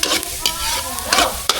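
Onion and garlic sautéing in a pan, a steady close sizzle with bursts of stirring scrapes spaced through the short stretch, no talking.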